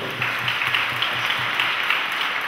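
A crowd at a solidarity concert event claps in a steady, moderately loud wash of applause, continuous and even throughout with no voices standing out.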